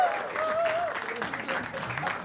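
A short burst of audience applause at a comedy show taping, steady clapping that fills the moment while a voice speaks over it.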